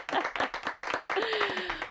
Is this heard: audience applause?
yes